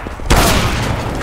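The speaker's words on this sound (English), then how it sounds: "Deploying flashbang." A flashbang grenade detonating in a competitive shooter game, a sudden loud broadband bang followed by a dense, ringing wash of noise that hangs on for about a second.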